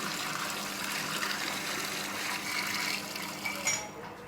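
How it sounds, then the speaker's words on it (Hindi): Water gushes steadily into a large pot holding twelve kilos of rice for a commercial Lahori chicken biryani, a continuous close, broadband pour lasting throughout with a brief splashier surge near the end. "ये पानी डाल रहे हैं हम।"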